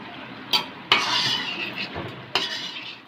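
A spoon scraping and clinking against a karahi while tomatoes and spices roast over full flame, with a steady sizzle underneath and a few sharp metallic strikes, close and moderately loud with no talk.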